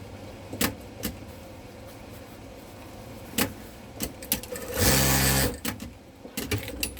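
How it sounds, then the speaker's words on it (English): Sewing machine stitching a quilt just after the bobbin is inserted, with scattered clicks and knocks and then one fast, loud run of stitching lasting about a second, close by. "this thing does better if you can sew really fast when you first put the bobbin in"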